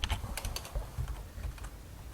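Rapid clicking of computer keys as code is typed on a keyboard, a quick uneven patter of keystrokes close to the microphone with no speech.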